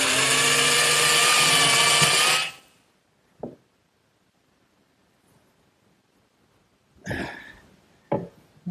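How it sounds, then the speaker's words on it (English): A power drill whines loudly for about two seconds boring half-inch holes in wood, then stops; after a pause, a few short bursts of drilling and handling noise follow. "Now I'll just drill a couple 1/2 inch holes in the sides for the shaker pegs."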